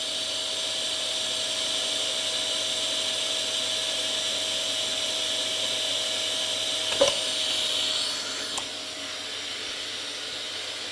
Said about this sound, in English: I'm still running my vacuum at the half speed